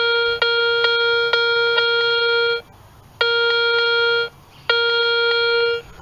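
Garrett Ace 250 metal detector giving its high steady target tone over an aluminum coin, three long sustained beeps with short gaps, loud and close.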